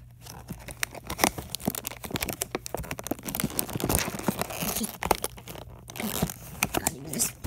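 Close, irregular crinkling and tearing as cardboard and packaging are ripped and handled, in busy bursts without speech.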